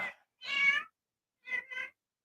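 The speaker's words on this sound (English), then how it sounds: "Mommy's looking for the kittens." A cat meows twice, first in one drawn-out call and then in a short broken call after a pause, close and clear against silence.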